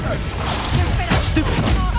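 Spell explosions boom and crash during a wizard duel in Hogwarts Legacy. Several heavy impacts and thuds land in quick succession under shouting voices and a busy game soundtrack.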